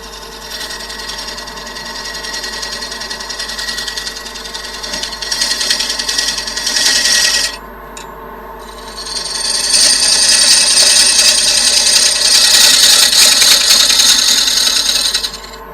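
A wood lathe spins a large rotten wood bowl at 550 RPM, giving a loud steady mechanical whir with tool-cutting rasp. The sound drops briefly, then returns louder and brighter for several seconds, with no talking.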